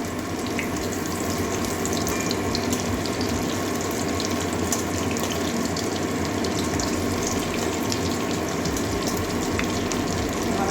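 Eggs fry in very hot oil in a pan, a dense, continuous crackle and sizzle that stays loud and even throughout without pause.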